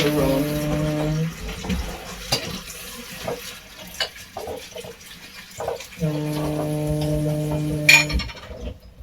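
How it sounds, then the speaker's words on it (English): Cold water tap running with an odd droning whine in the pipes, a steady tonal hum that drops out and returns over flowing water, with faint voices around. "That's just the noise the tap's making for some reason on the cold water run."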